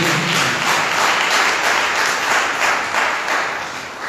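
A congregation at a Sunday church service claps hands together in a loud, dense, sustained burst of applause with a loose rhythmic pulse, filling the room.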